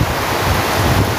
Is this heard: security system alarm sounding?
no